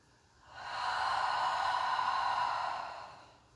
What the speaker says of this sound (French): On va prendre 3 respirations conscientes ici.